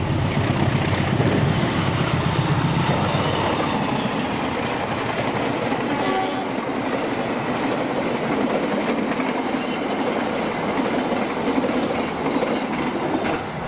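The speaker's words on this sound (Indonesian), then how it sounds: "ini kereta api Fajar Utama YK 143B" Fajar Utama YK 143B passenger train rolls past close by, a steady loud rumble of wheels on track with rhythmic clickety-clack and occasional faint squeal, no voices.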